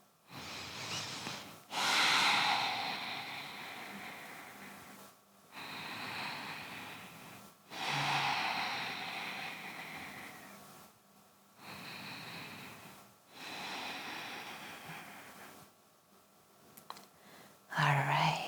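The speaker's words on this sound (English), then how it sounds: "Deep, full, nourishing breaths." Slow, deep breaths during a gentle yoga flow: long audible inhales and exhales close to the microphone, about seven breaths in an even, unhurried rhythm with short quiet pauses between them.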